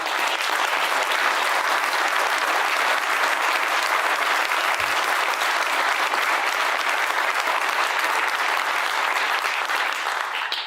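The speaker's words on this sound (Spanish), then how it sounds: "les dedico el aplauso que ustedes tuvieron recién" Sustained, dense audience applause fills the room throughout a political speech to business leaders in Argentina, steady and loud from start to finish with no talking over it.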